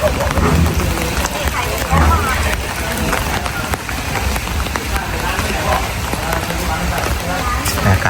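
Rain falls steadily as a dense hiss at a riverside restaurant by a reservoir, with diners' chatter and talk mixed under it throughout.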